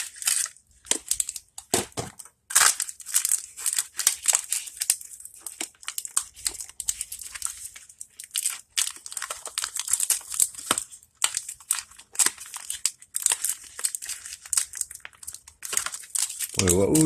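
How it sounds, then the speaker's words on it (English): Plastic packaging around a computer memory saver being cut open, giving steady close crinkling, crunching and tearing through the whole stretch with sharp snips and rustles, alone with no talk. "So the first thing I'll do is cut this thing open."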